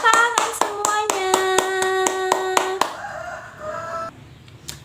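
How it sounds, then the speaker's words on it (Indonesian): A classroom of primary school children claps in quick, rhythmic unison, about a dozen sharp claps close and loud, ending in a short cheer and fading chatter. "tepuk tangan semuanya."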